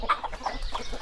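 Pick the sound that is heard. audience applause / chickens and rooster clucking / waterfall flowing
chickens and rooster clucking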